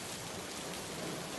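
Steady rain on a misty day falls as a soft, continuous broadband hiss. It is faint and even throughout and has no distinct drops or other sounds.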